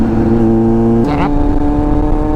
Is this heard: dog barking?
no